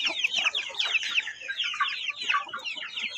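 Chickens and newly hatched chicks from an incubator cluck and peep in a busy, continuous chorus close by, with no talk.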